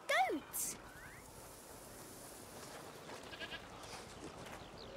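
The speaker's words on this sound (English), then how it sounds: "What's over there? Goats!" Goats bleat in the video game A Plague Tale: Requiem, a couple of loud, wavering cries close by at the start, then quieter calls under soft ambient outdoor noise.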